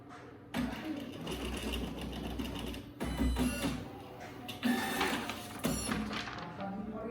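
An Epson PLQ-30 passbook printer feeds paper with a steady mechanical whirr and repeated buzzing, rattling bursts that start and stop through the stretch.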